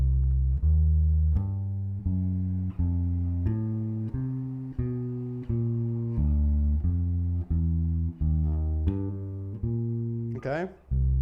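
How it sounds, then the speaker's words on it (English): Walking jazz bass line on a bass, steady quarter-note plucks moving through roots, thirds, fifths and a chromatic passing tone, loud and close, with a brief slide near the end. "Fantastic sounding walking bass line, and it's just using roots, 3rds, 5ths, and then a passing tone"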